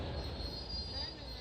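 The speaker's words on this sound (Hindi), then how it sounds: "13307 धनबाद फिरोजपुर किसान एक्सप्रेस ही लग रही है मुझे।" The 13307 Dhanbad–Ferozepur Kisan Express rolling through Bareilly Junction, a loud, continuous rumble of wheels on rail topped by a sustained high metallic squeal, close by and unbroken throughout.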